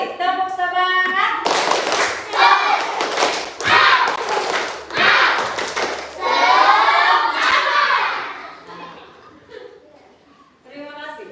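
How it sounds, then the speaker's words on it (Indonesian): Students in a classroom clap out a rhythmic spirit-clap pattern in quick bursts, with children chanting and shouting along over the hands; a teacher's voice is heard at the start and end. "kita tepuk semangat lagi 1 kali"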